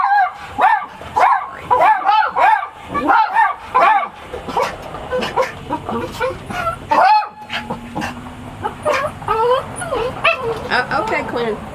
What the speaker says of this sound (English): I guess my dogs are going to bark at it.